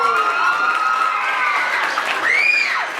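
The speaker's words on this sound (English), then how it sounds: "Let's give her a round of applause." A crowd cheers and applauds for a student of the week, with excited voices, rising whoops and clapping blending into a lively, fairly close roar.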